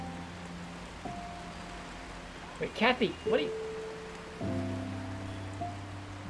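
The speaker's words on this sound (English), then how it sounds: "And now it's pouring down." Rain pours steadily in the video game Until Then, a soft even hiss beneath soft tonal game music, with a character's voice briefly rising over it midway.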